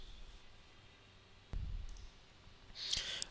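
A single sharp mouse click sounds in a quiet room while an Android Studio project is set up, followed moments later by a brief rustle and a second faint click.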